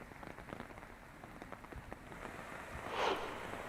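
Heavy monsoon rain pours steadily in Gondia district, Maharashtra, a dense continuous patter of drops on surfaces with a brief swell in intensity near the end and no voices.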